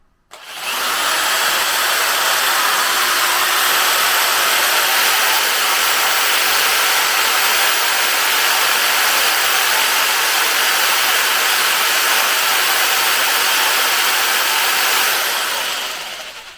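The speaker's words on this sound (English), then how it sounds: "this is the Guild jigsaw. We'll pop that in there." A Guild 550-watt electric jigsaw runs steadily for the whole stretch, a loud, unbroken high-pitched motor whine with a smooth, even buzz, starting abruptly and cutting off at the end, nobody talking.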